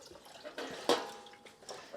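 Cold tap water splashes and drips steadily while dyed socks are hand washed in a sink, with a brief louder gush near the middle.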